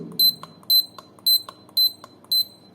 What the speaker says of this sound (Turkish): Bu arada buzzer çalıyor her seferinde